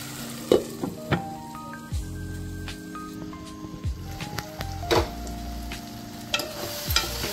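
Eggs with dried shrimp and dried fish cook in a curry pan over a medium flame, a steady sizzle under sharp scraping clinks and a few louder knocks, with faint tonal music running behind.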